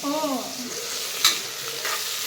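Tomato frying in a pan for donne biryani, with a steady sizzle and one sharp scrape of stirring partway through, close and fairly loud.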